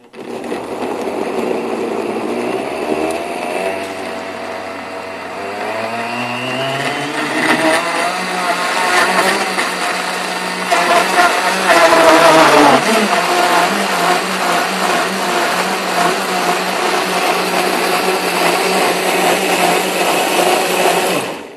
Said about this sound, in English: now we're going to put this lid on here, and we're going to blend it up here a minute